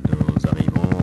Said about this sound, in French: L'hélicoptère va essayer de revenir, je vais le laisser se poser